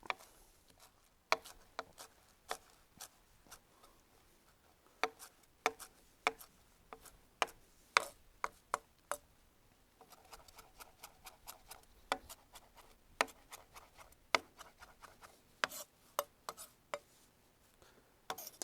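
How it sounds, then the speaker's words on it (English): Sharp, irregular taps of a knife chopping parsley leaves on a cutting board, roughly chopping in quick clusters with brief pauses, close and fairly quiet. "I'm just going to get the leaves off the stems and give it a rough chop."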